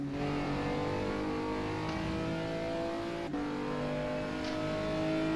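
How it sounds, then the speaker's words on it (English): Race car with an LMP1 engine sound in the rFactor 2 racing game, droning steadily at high revs with tonal harmonics and a brief gear-shift dip, loud and continuous with no talk. "the car sounds different because it's actually an LMP1 sound"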